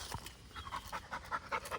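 An American Pit Bull, almost three years old, pants quietly outdoors in a yard, a steady run of soft rhythmic breaths repeating about twice a second, faint and close.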